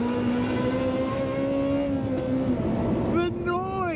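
A 1995 Ferrari F355 Berlinetta's mid-mounted engine revs hard inside a tunnel, its loud steady harmonic wail holding and then swooping in quick pitch sweeps near the end. Echoing reflections fill the space.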